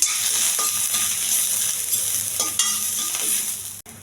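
Garlic and dried red chillies frying with cumin in a pan, a steady close sizzle broken by a few spoon-stirring scrapes, no talk, ending with a brief clink.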